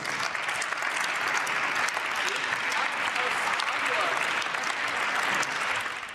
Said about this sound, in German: Viel Applaus aus der Unionsfraktion übrigens